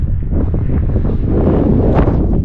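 Strong wind buffets the microphone in a continuous low roar, loud and close, with gusts but no voices.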